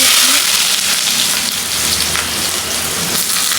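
Chopped onion and garlic sizzle in hot oil as the base for a bitter gourd fry, giving a loud, steady crackling hiss from start to finish with no pause.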